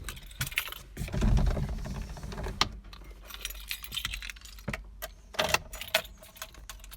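Car keys for an old Metro jangle and clink repeatedly up close, irregular metallic rattles in bursts with a low rumble beneath, no one speaking.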